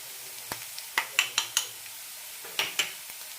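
Onions frying in a pan with turmeric and asafoetida for ridge gourd curry, a soft low sizzle broken by about eight sharp spoon-on-pan clinks and scrapes in two short bursts.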